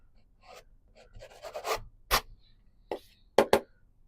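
A palette knife scratching paint off a canvas, a series of short, dry rasping scrapes in irregular bursts, close and fairly crisp, with quiet gaps between strokes.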